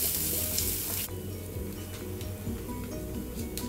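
Groundnuts and chopped onion frying in a pan, a steady sizzle with a sharp crackling burst at first, then quieter frying with occasional ticks and stirring scrapes.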